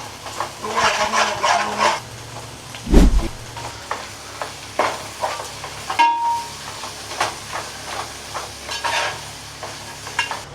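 Tomatoes are stirred and fried in a pot for chicken pulao, with a steady sizzle broken by repeated scraping stirs and one loud clank near the start, all close and without talk.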